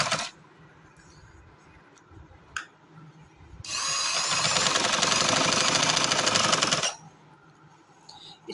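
An electric sewing machine stitches fabric for a designer suit in one loud, steady whirring run of about three seconds, framed by brief clicks and handling noises.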